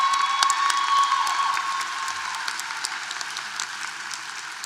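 A university commencement audience applauds a graduate, a broad wash of crowd clapping with some cheering, loudest at first and tapering off slightly while staying steady, with a faint whistle-like tone early on.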